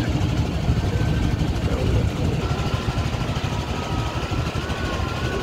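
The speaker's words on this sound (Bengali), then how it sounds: "আরেকটি নৌকা ছুটে চলেছে ভাঙ্গা ব্রিজ টু" A motorboat engine drones steadily on the Turag river, a continuous low rumble with a faint whining tone above it, at even loudness throughout.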